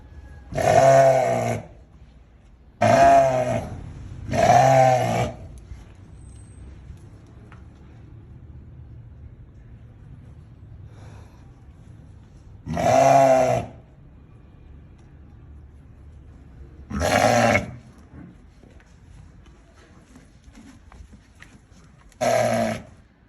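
An Assaf ram, a pure dairy sheep breed, gives six loud, rasping roar-grunts, each about a second long. The first three come in quick succession and the rest are spread out with quiet pauses between them.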